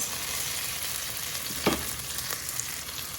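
Chicken dish with onion, garlic and red pepper frying in a pan while being stirred, giving a steady close sizzle with a brief scrape of the utensil partway through.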